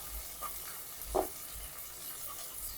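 Onions frying in butter and oil for an Indian street-food brunch dish: a faint, soft sizzle with a brief scrape or stir at one point, quiet and close.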